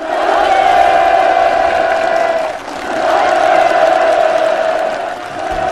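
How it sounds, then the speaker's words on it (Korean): A crowd at a farm village housing move-in ceremony gives sustained, enthusiastic applause mixed with cheering, loud and continuous with a brief dip midway. "살림집 이용 허가증이 참가자들의 열렬한 박수 속에"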